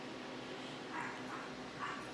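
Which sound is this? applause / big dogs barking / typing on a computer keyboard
big dogs barking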